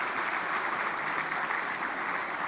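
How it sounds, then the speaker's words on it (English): Audience at an awards celebration applauding, a continuous, even wash of clapping heard at moderate distance without any talking over it. "Give yourselves a round of applause, man."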